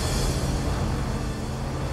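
A Hummer truck engine running in the off-road driving game SnowRunner, a steady, continuous low rumble with no change in pitch and no voices.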